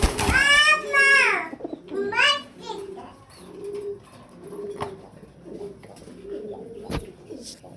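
Farm pigeons at a pigeon farm give repeated short, low coos at a steady pace, close by, after a brief burst of a voice at the start.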